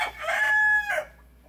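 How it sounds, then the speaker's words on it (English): A mature rooster on an American chicken-breeding farm gives one loud, close cock-a-doodle-doo, a strained rising-and-falling crow lasting about a second. No voices are heard. "Mature cock right there."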